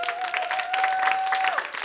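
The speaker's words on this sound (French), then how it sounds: "On peut les applaudir, exactement." An audience claps for the witnesses Claudia and Nicolas at an evening event, a steady dense patter of applause from start to finish, with a sustained electronic whine and faint voices underneath.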